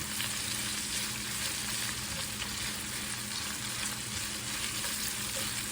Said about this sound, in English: let's continue to saute these onions